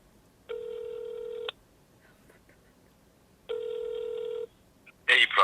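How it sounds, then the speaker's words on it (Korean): Telephone call tones: two steady ringback tone bursts about a second long each, separated by quiet gaps, clear and moderately loud, followed by a brief noisy burst at the end as the line connects. "오늘은 커트에게 전화를 해보도록 하겠습니다."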